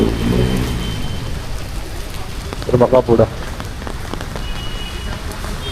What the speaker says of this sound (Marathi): आता खूप जोरात पाऊस पडते.